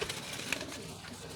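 Pigeons cooing in soft low murmurs at a loft, brief and close, with faint background noise throughout.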